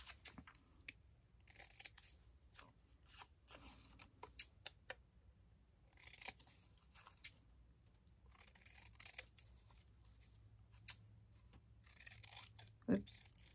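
Scissors trimming a piece of paper for a stamped scrapbook cluster, with repeated soft snips and crinkly rustles in uneven bursts, close but quiet.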